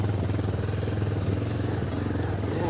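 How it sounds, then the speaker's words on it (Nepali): A motorcycle rides along a rough, rocky mountain road in Sindhupalchok, Nepal, its engine a steady, close, continuous drone with rattling underneath and no clear breaks. "यस्तो बाटोमा बाइक चलाउँछ हेर्नु"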